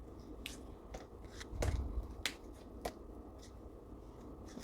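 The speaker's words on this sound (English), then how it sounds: "Now I'm gonna shuffle this deck." Tarot cards are shuffled in quick riffles and soft slaps, a few crisp bursts close by in a quiet room.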